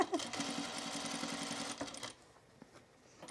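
A sewing machine stitches around the neck edge of a top with tucks, whirring in a fast, steady rattle for about two seconds before stopping, leaving faint room noise and soft clicks.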